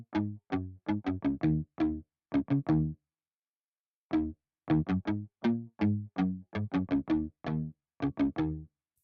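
Electric guitar riff from the Electric Ruby Deluxe Kontakt library with the chord builder switched off. Short, clean, staccato picked notes play in quick rhythmic bursts, separated by brief silences and one longer pause partway through, with no voices.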